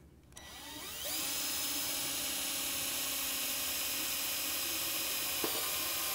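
Power drill spinning up and boring steadily into motorcycle bodywork, a loud continuous high whine starting after about a second and holding, close by, no talking.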